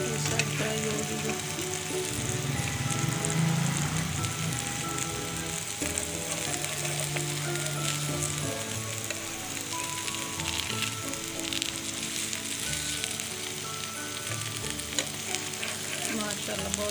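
Chicken liver and bitter gourd fry in a pan with a loud, dense, continuous sizzle and occasional stirring clatter, close up and uninterrupted by any voice.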